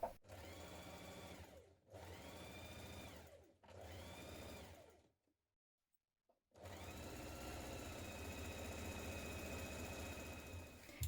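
A sewing machine sews a zigzag stretch stitch on a dress in several bursts: three short runs, a silent pause, then a longer steady whir close up, with no talking.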